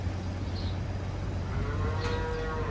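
A dairy cow moos on a farm, a long low call heard at moderate distance over a steady background hum, with no talking.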